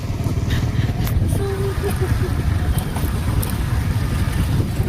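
Steady, heavy wind buffets the microphone with a constant low rumble, and a voice is faintly audible underneath.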